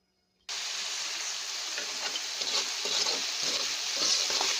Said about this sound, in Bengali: এখন আমি তেলের মধ্যে পেঁয়াজ দিয়ে দিয়েছি।